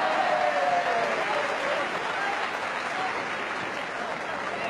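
A Wimbledon tennis crowd applauding, a dense, steady wash of clapping that fades slightly toward the end, with no voices clearly standing out.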